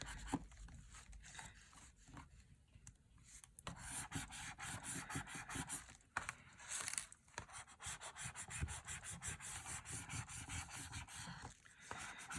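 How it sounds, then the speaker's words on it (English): Bone folder rubbed firmly over paper on a Christmas folio craft, a close, quiet series of rapid back-and-forth scratchy strokes with brief pauses, and no one speaking. "Giving it a good rub with my bone folder."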